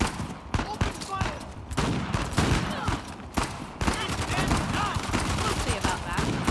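Sustained automatic gunfire rattles through a firefight in the video game Uncharted: The Lost Legacy, with dense overlapping shots and bursts and only brief gaps.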